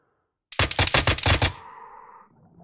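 Rapid automatic gunfire in the video game ARMA 3, a loud close burst of about ten shots lasting about a second, followed by a fading echoing tail and quiet hiss.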